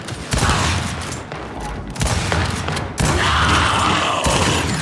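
Repeated Gnasher shotgun blasts and gunfire from Gears of War 5 in a 2 vs 2 match on the Annex map, several loud bursts around one and three seconds over continuous game noise.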